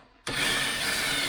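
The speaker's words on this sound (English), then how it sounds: "I'm going to use the spot weld drills down these" A spot weld drill bites into the sacrificial sill of a 1993 Range Rover Vogue 3.9, starting abruptly after a quiet moment and continuing as a loud, steady grinding whir up close.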